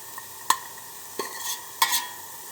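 A spoon stirs vegetables cooking in a pot for chicken noodle soup, making three separate scraping, clattering strokes over a soft sizzle, close and moderately loud with quiet gaps between them.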